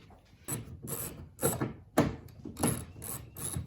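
Ratchet or hand tool loosening the screws of a tail light on an Infiniti G37 coupe, a series of about six close, sharp clicking bursts in an irregular rhythm, with no speech.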